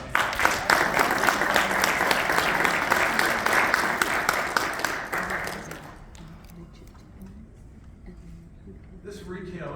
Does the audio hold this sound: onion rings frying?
no